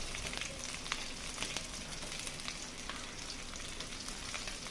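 Slit green chillies with chopped onion fry in oil in a pan, giving a dense, even sizzle with faint crackles and light stirring over a few seconds.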